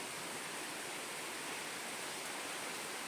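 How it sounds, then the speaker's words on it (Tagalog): Heavy rain pours steadily outside a hut where chicks are sheltering, a dense, constant broadband hiss with no breaks, loud and close, with no voices. "Malakas ang ulan."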